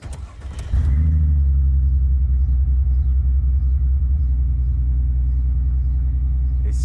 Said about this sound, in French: Maintenant, on va démarrer la voiture.